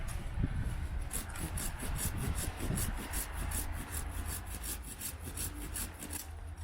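Cheap hand saw, a budget Silky Saw substitute, cutting through wood in quick steady back-and-forth strokes, each pass a bright rasping rub, close and alone.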